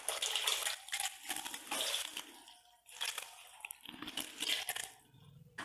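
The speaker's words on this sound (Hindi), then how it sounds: "पानी डाल लेंगे।" Water poured into a spiced lentil and beef mix for shami kabab, with a few splashy trickling bursts and light crunchy clatter in a home kitchen, close and moderately quiet.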